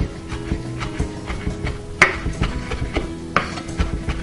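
Rosemary leaves stripped from the stem are chopped with a knife on a board, producing close, irregular thumping taps, one sharper knock standing out among the softer cuts.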